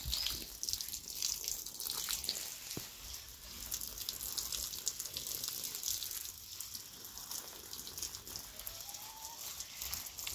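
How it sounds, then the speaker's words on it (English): Water runs steadily outdoors while plants, including peppers and beans, are watered in Jamaica, giving a continuous soft splashing and hissing flow at a modest level, with no one speaking. "So today I'm going to water the plants"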